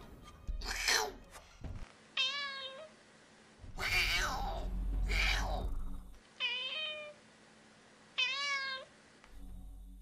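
A person imitates a cat, producing several drawn-out meows and snarling yowls in bursts with short pauses, close and loud.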